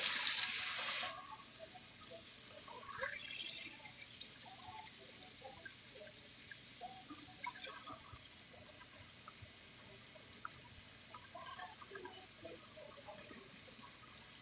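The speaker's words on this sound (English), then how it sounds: "I just run them under the faucet and the peelings come off in my hand" Water runs steadily from a kitchen faucet while vegetables are peeled under the stream, a loud rush at the start settling into a softer, continuous flow with faint clinks and handling sounds.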